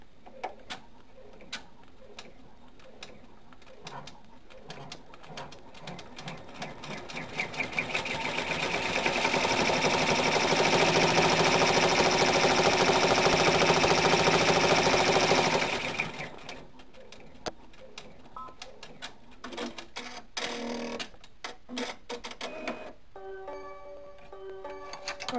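Sewing machine running a steady, fast stitching burst to tack down the final applique piece on a Rudolph reindeer stuffed toy, loud and continuous in the middle, with quieter intermittent machine ticks before and after.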